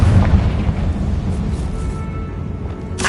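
A Confringo blast spell bursts in a Harry Potter video game, a loud continuous low rumbling boom that holds steady for about three seconds, with a sharp crackle flaring right at the end.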